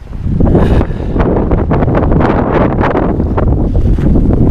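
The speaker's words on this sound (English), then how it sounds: "It's windy as hell out too, and it's about -13 out" Strong wind during a snow storm at about -13 degrees buffets the microphone in loud, continuous rushing gusts with rough bursts throughout, and no one speaks.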